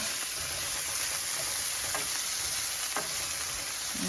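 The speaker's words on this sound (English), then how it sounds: "now that I have my mushrooms and my green pepper simmering" Mushrooms, green peppers and onions sizzle steadily in a hot pan, a continuous bright frying hiss with a few soft stirring knocks, close and unaccompanied by voices.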